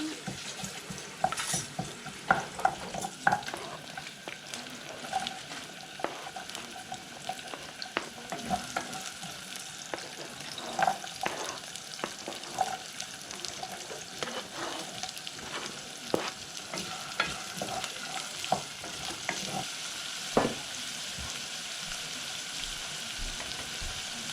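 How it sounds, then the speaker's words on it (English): Minced onions, celery, carrots and garlic sauté in a pan with steady sizzling and frying crackle, punctuated by occasional stirring scrapes, close and continuous with no talk. "1/4 cup of minced onions, celery and carrots, and 2 cloves of garlic. So you saute this."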